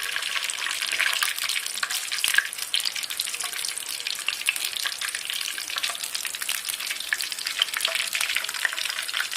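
Cloves, cinnamon and star anise stirred with a spoon in frying oil for a chicken white karahi, a loud crackling sizzle with rapid irregular popping and light spoon scraping, continuous and close, with no voices.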